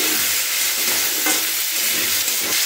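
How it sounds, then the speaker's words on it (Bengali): Mixed vegetables stirred and fried in a pan: a dense, continuous sizzle with scraping stir strokes, close and fairly loud, with no voices. "এবার সমস্ত সবজিগুলোকে এর মধ্যে দিয়ে দিলাম, দিয়ে নাড়াচাড়া করে নিচ্ছি এর সাথে"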